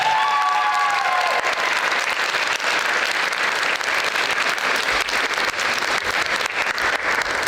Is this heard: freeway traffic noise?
no